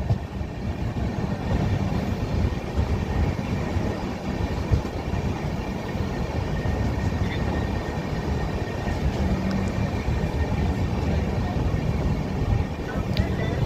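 Shipra Express pulls out of Durgapur station, a continuous low rumble and rattle of the moving train, steady and unbroken throughout.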